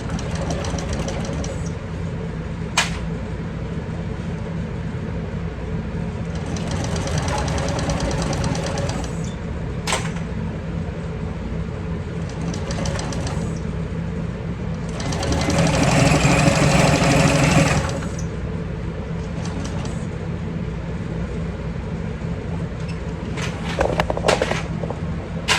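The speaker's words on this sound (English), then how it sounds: "So we top stitched that all the way around at that 3/8 of an inch seam allowance." A sewing machine top-stitching a handbag seam, a steady mechanical whir running throughout with several short bursts of faster, louder stitching and occasional clicks.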